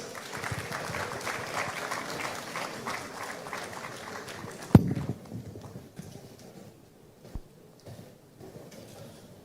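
Audience applause at a government launch of Ghana's National AI Strategy, greeting the Speaker of Parliament. Broad, moderate clapping fills the first half, then fades into quieter room noise with a sharp knock midway.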